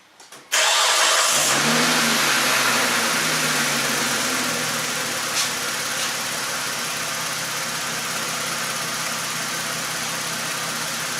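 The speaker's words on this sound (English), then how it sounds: "start the car" A car engine cranks and catches, then settles into a steady idle with a faint rev shortly after, heard close and alone with no talk.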